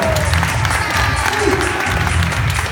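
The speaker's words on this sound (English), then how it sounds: "Big round of applause one more time for Otto." At a Sea World Hydro Power show in San Antonio, a large outdoor crowd applauds in a continuous wash of clapping and faint cheering, heard at a distance under a broad roar of ambient noise.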